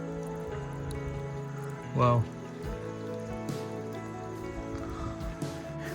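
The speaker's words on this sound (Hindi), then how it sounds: "जमीन में से पानी निकल रहा है" Water seeping and trickling out of the ground at Trimbakeshwar, a faint, steady dribbling wash beneath a man's brief exclamation and low background hum.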